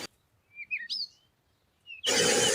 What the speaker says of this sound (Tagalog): "Ano ang nangyari sa iyong pugad, mahal kong ibon?" tanong ni Maria kay Martinez